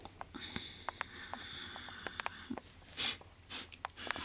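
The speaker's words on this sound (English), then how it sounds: "He's sniffing us." A creature in a cartoon takes short, quick sniffs close by, a rapid irregular string of faint breathy puffs with a couple of longer snorting breaths, heard alone at low volume.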